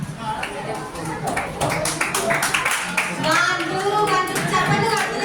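Audience clapping at a Telugu language day event at a college in Zaheerabad, a steady patter of many hands that swells partway through, mixed with voices talking and calling out over it.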